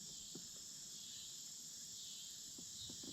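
Cicadas in riverside trees keep up a dense, unbroken high buzz, with a few faint low knocks and rustles underneath at a quiet kayak campsite in the afternoon.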